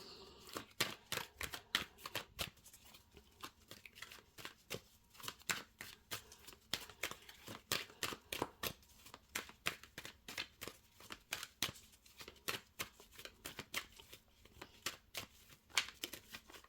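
Tarot cards being handled and laid out make quiet, close, crisp snaps and flicks in quick irregular bursts, continuing throughout.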